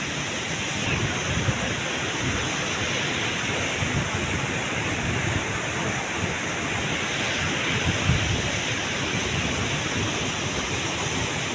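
Jambhali waterfall in Korchi taluka rushes in a constant, broadband roar, steady and enveloping from start to finish with no breaks or voices.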